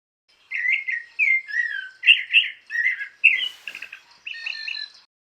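Birds singing in hotel gardens in Costa Rica: one clear, close songbird gives a series of bright whistled and warbled phrases with short gaps between them over a quiet background.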